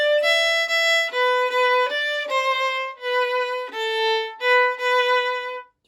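Solo violin plays a melodic phrase from a pop song, slow demonstration tempo, with clear sustained bowed notes in a steady stepwise sequence, close and bright, with no talking.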